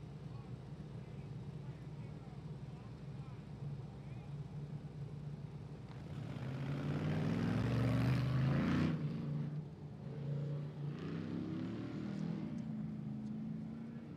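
Off-road race machine, the 4538 car at the 2018 King of the Hammers 4500/4800 qualifying on the Jeep Proving Grounds short course, revving as it launches; a steady engine drone swells loudly midway then settles, with commentators talking over it.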